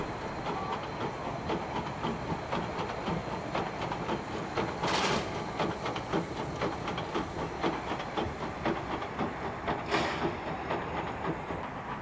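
A train rolls back toward a railway museum, a steady rumbling roll with faint rhythmic clicks and a hissing background, and two brief louder bursts partway through; no voices are heard.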